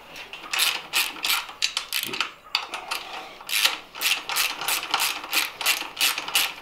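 Ratchet clicking as a technician tightens the luggage rack bolts on a Royal Enfield Interceptor 650, with rapid bursts of close, crisp pawl clicks coming in short strokes and brief pauses between them.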